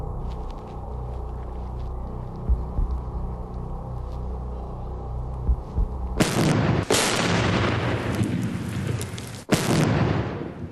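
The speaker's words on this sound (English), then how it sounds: "this mortar is going to fire them against the wall" A mortar fires memory devices against a wall, a sudden loud explosive burst after a stretch of low rumbling, followed by sustained noisy blasting with a second sharp bang near the end.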